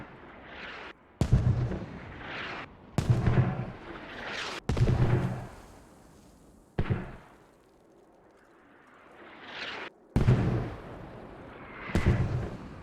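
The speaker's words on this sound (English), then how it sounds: "And here come the mortars" Mortar rounds landing in the military shooter Squad, a series of separate heavy booming impacts spaced a second or two apart, each with a rumbling tail, a few sounding nearer and louder than others, no voices over them.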